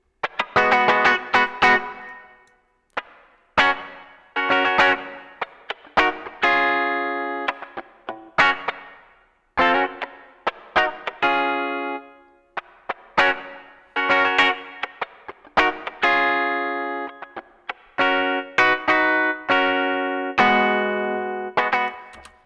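Electronic keyboard chords played alone with heavy effects, distorted, chorused tones, in a choppy rhythm of short stabs and sustained chords with brief gaps.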